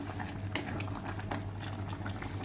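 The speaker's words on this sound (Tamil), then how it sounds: "இப்போ நல்ல கொதிச்சிருச்சு முருங்கக்காவும் நல்ல வெந்து வந்திருச்சு" Drumstick (moringa) curry bubbles at a steady boil in a pot on the stove, with a continuous close hiss and gurgle throughout and no talking.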